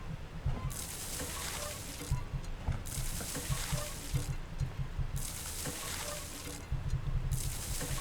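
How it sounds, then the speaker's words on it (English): Running water leaks into a ship's hull in the game Following Seas, a continuous rushing, sloshing flow that swells and recedes in waves beneath a low ambient hum. "Listen for the sound of running water."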